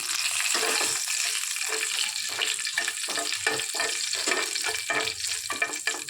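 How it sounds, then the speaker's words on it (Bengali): Kasuri methi, a pinch of hing and green chillies sizzling in hot oil in a frying pan, a steady bright crackle with soft scraping stir strokes throughout, close and continuous with no talk. "এরপর ফ্রাই প্যানটার মধ্যে আমি কস্তুরি মেথি, সামান্য হিং আর কাঁচা লঙ্কা দিয়ে দিলাম ফোড়নের জন্য"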